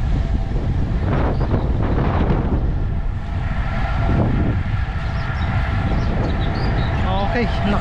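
Steady, roaring wind buffets the microphone during a downhill ride at about 93 km/h, a constant broadband rush with some low rumble, and a voice briefly speaks over it.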